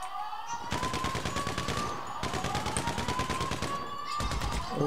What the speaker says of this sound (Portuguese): Estás a levar tiros, pá.